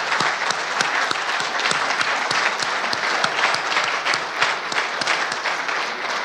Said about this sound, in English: Let's please give these folks a round of applause for everything they do to make such a great difference in the community of